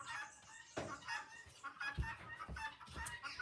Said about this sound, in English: The goose stole a letter off one of the other desks.